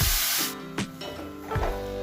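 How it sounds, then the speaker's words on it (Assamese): Grated carrots hitting hot ghee in a pan for gajar halwa: a loud, sharp hiss that quickly drops to a quieter sizzle, with a couple of soft knocks in this brief moment. "এইখিনি মই এতিয়া ঘিউত ভাজি ল'ম অলপ দেৰি।"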